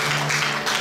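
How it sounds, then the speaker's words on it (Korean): A church congregation applauds after a minister is proclaimed ordained in the name of the Father, Son and Holy Spirit. The clapping is a brief, even wash that fills the hall over a low steady hum. "박수해 주시면 감사하겠습니다"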